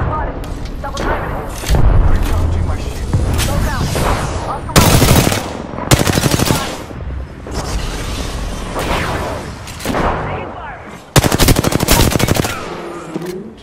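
Apex Legends gunfire crackles in repeated loud bursts of rapid automatic shots mixed with single reports and thuds, while in-game character voice lines call out over the shooting.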